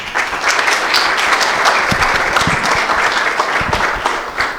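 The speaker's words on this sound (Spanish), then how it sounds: "Un aplauso." An audience at a university political talk breaks into a few seconds of steady, dense clapping, close and continuous throughout with no voices over it.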